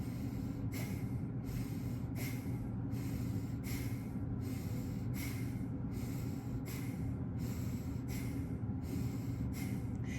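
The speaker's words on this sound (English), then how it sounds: "exhaling forcefully out. So it's going to sound like this." Sharp, forceful nasal exhales repeat in a steady rhythm, about one per second, during a breathing exercise, over a constant low background rumble.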